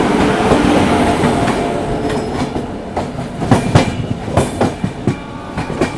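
A Humsafar Express passenger train rolls fast past a Shakur Basti–Dhanbad Special, a steady roar of wheels and carriages giving way to sharp, rhythmic clickety-clack as the overtaking train clears it, heard loud and close without talk.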